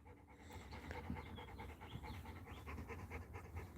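A dog pants rapidly and steadily after playing ball, close to the microphone and quiet, with no one speaking.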